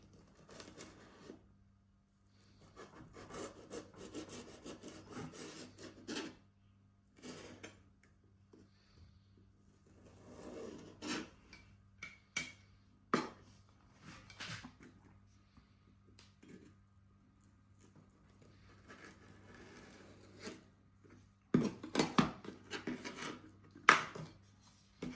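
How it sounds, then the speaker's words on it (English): Knife trimming bait fish for squid jigs, heard as scattered short clicks, scrapes and taps in uneven bursts, close and fairly quiet with pauses between, no talking. "I'm going to trim the fish"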